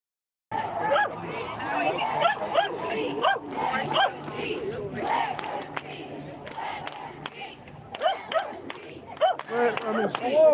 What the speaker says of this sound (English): You'll hear some of the dogs are barking as well.